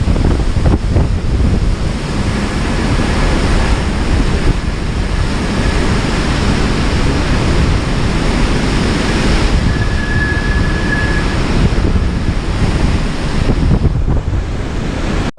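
Hurricane Zeta at Category 2 strength south of New Orleans in Plaquemines Parish, a loud continuous roar of wind and storm buffeting the microphone, unbroken for the whole stretch.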